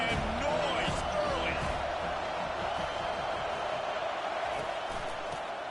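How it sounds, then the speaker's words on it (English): Stadium crowd noise roaring steadily throughout a College Football 25 video game broadcast of an NC State Wolfpack game, a dense continuous wash of cheering under a commentator's voice. "This crowd bringing the energy and noise early"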